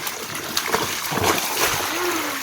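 Water from a motor pump splashes continuously at close range, a steady wet spatter with a few louder bursts and faint voices in the background.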